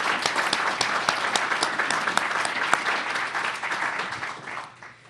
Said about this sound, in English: And he certainly deserves a round of applause